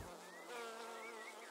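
Honeybees buzz at an apiary in a countryside garden in Balazé, a soft, steady drone with wavering pitch, faint and close, with no voices.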